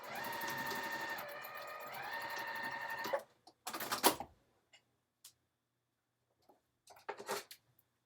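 Sewing machine running a steady seam at a 5/8 inch stitch width, a continuous motor whir for about three seconds, then a brief second burst and scattered small clicks and taps in near silence.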